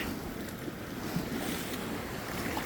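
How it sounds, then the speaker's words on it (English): Rough ocean surf crashes onto the shore in a continuous broadband wash, loud and steady, with wind buffeting the microphone and no voices. "The waves are just crashing in."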